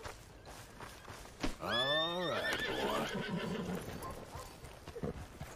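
A horse in Red Dead Redemption 2 lets out one loud, close whinny that rises and then falls, with light hoof clops and game ambience around it and no talk over it.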